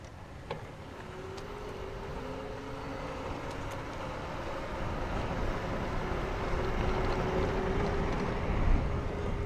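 An electric bike's assist motor runs on its first level, a steady low whine that rises slightly in pitch under constant wind and road rush, swelling gradually louder over the ride.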